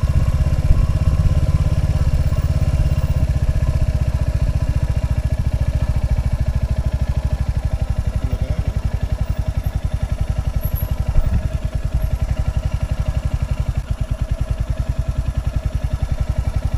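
A motorcycle rides over a broken, rocky, rain-wet road near Lungsel in Kalimpong, North Bengal, its engine a steady close drone with rattling clatter from the rough surface running throughout.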